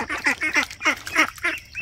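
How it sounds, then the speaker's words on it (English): Ducks quacking in a rapid run of nasal calls, with a young gosling kept among the flock beside a new mobile chicken coop; about six close, loud bursts follow one another without pause. "The gosling who we are leaving in with the ducks"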